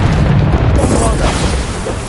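A Bombarda explosion spell goes off in a video game, a loud, sustained booming blast with dense low rumble that fills the whole moment and slowly tapers.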